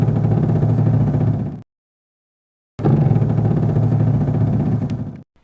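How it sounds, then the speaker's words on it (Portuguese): Hydraulic power steering squawks as the wheel is turned lock to lock with the engine at idle, a loud, continuous harsh groan in two long bursts split by a short silence. "um ruído semelhante ao grasnado quando se esterça de batente a batente, com o motor trabalhando a baixas rotações ou marcha lenta"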